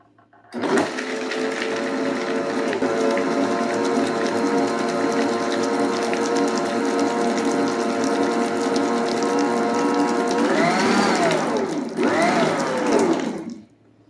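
An electric mixer whirs steadily through a pineapple cream cheese ball mixture with chopped pecans, a close, constant motor drone with rhythmic churning, dipping in pitch twice near the end before stopping.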